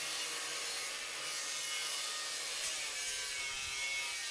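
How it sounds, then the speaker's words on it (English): A flap disc sanding wheel on a grinder deburrs the sharp edges of a cut metal access door, giving a steady, high, hissing grind that holds a fairly even loudness throughout and has no voices over it. "I then took off all the sharp edges with the flap disc sanding wheel."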